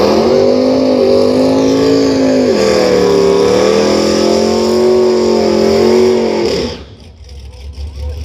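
A drag racing car makes a run at a street meet, with a loud, steady engine roar holding high revs for several seconds before cutting off abruptly, leaving quieter background noise.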